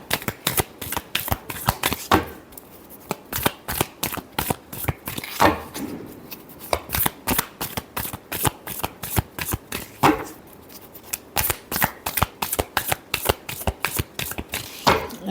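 Tarot cards are shuffled by hand in a rapid, steady run of crisp riffling slaps and flutters, close and fairly loud, continuing for the whole stretch with no talk over it.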